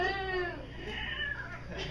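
A human voice mimics a kitten being strangled, a strained, wavering high-pitched meowing whine with sliding tones that fades into a thinner squeal, loud and close.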